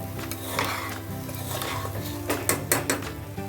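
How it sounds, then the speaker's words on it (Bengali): Spoon scraping and clinking against a pan while soya pulao is stirred with salt, a run of close metallic scrapes with a few sharper knocks near the end, no talk. "স্বাদ মতো লবণ দিয়ে একটু নাড়াচাড়া করবো ভালো করে"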